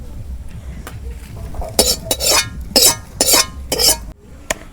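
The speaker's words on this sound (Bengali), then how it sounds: "চুলে আগুন দিছি, এখন কড়াই বহাই দিই" Metal wok set down on a lit stove burner, several sharp clanks and scraping knocks in quick succession, close and loud, then a last single clink after a pause.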